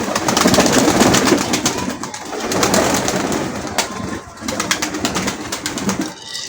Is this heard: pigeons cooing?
yes